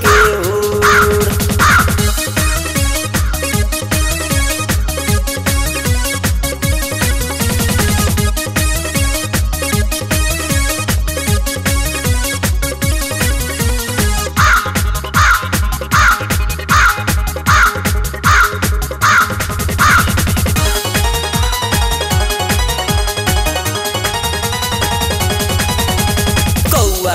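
Crow caws sound within a loud, busy Bhojpuri song, blending into a dense mix of rhythmic music and instruments that continues throughout.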